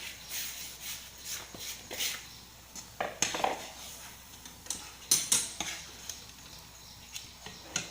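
Kozakattai dough stirred into boiling salted water in a pot, giving soft scraping and clinking strokes of a utensil against the pot, close and fairly quiet, with a faint bubbling hiss underneath.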